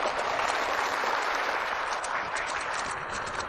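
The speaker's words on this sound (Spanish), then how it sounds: "Un fuerte aplauso para dar la bienvenida al director Castillo." An audience gives sustained, even applause to welcome a factory director. The dense wash of clapping continues without a break, and nobody speaks over it.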